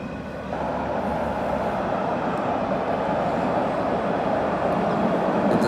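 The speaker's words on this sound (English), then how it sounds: "Lots of trains this morning at this time. We have 3 in a row right now." A steady, heavy rumble of trains passing in a row in the morning in Jerusalem, a continuous low roar with rattling wheels that holds even throughout, no voices present.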